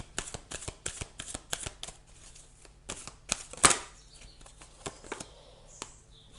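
Tarot cards shuffled by hand, a rapid series of crisp riffling slaps and flutters, close and fairly clear, with one louder burst midway and softer shuffles after.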